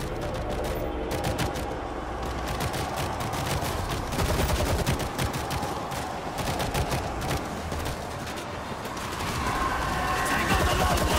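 Dense, continuous gunfire in the zombie shooter World War Z, rapid rifle and automatic bursts layered together at close range for the whole stretch, with shouted voices mixed in under the shooting.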